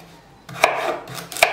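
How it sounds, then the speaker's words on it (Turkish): A kitchen knife chops vegetables on a board while breakfast pastry is prepared, giving two crisp, close chops about a second apart over a quiet room hum. "Umarım sebzeleri doğrarken sizi sıkmıyorum."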